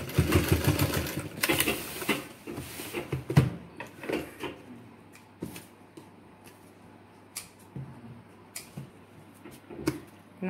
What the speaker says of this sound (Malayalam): നമ്മുടെ പോക്കറ്റ് നമ്മളിവിടെ സ്റ്റിച്ച് ചെയ്തിട്ടുണ്ട്.